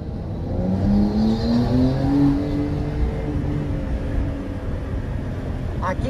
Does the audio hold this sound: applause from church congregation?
no